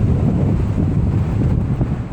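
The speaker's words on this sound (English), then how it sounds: "It's really windy" Strong gusting wind ahead of an Arizona thunderstorm roars steadily as a loud, dense rumble buffeting the microphone, with no voices.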